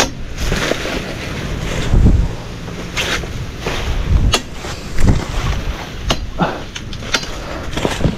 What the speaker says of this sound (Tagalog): Lakas ng hangin mga kabady.